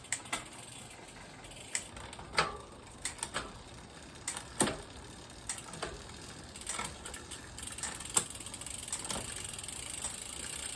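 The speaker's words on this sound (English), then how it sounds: "I'm going to run through this 9-speed cassette with this shifter, which works pretty well, no real hesitation." Clicks and ratcheting from a bicycle shifter running through a 9-speed cassette, a series of sharp, irregularly spaced ticks over steady mechanical hiss.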